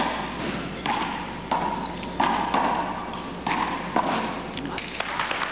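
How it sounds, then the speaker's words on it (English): A handball rally on an indoor court at the 1985 Big Ball Nationals: a run of sharp thuds as the ball strikes the walls at a quick, irregular pace, echoing in the room, with a commentator talking over them. "Both men end the volley on kill shots, probably because they're not putting too much pace behind the ball."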